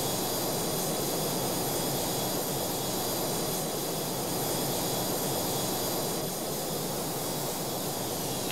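A jet aircraft takes off in the video game Strike Fighters 2, with a steady, loud roaring engine drone and high whine holding evenly throughout, no speech over it.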